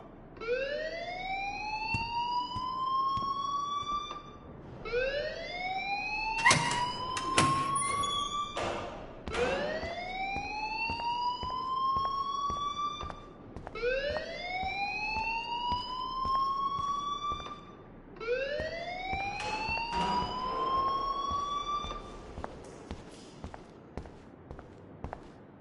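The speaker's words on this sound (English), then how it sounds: "please turn off that alarm since that's your job" An alarm in the video game Life is Strange wails in repeated rising sweeps, five long siren-like cycles with brief gaps between them, loud and close, with a few sharp clatters mixed in.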